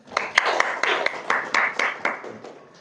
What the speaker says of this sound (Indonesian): Tepuk tangan dulu buat kita semuanya.